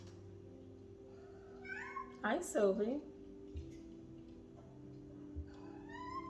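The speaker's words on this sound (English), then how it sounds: "And my cat is coming in here." A house cat meows once loudly and close by, a short wavering cry, with faint chirps before and after while someone speaks softly to it.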